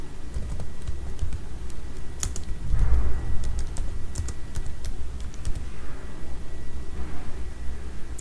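Rapid typing on a computer keyboard, a close, steady run of clicky keystrokes with a few sharper taps, heard alone without speech.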